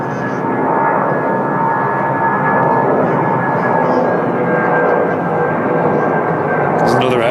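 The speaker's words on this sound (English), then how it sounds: "There's another aircraft that did the same go around path, so that is so loud." A jet aircraft roaring loudly overhead at Manchester Airport on a go-around path, a sustained broad rumble with a faint whine, steady and close throughout.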